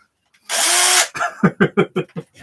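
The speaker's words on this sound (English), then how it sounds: "Time to bust out a drill." A handheld power drill whirs loudly and steadily for about half a second in a workshop where a Gundam cosplay is being built, then a short run of clicks and knocks follows.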